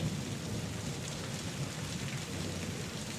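Heavy rain pours steadily on surfaces with a dense, even hiss, and a low thunder rumble sits beneath it throughout, with no voices.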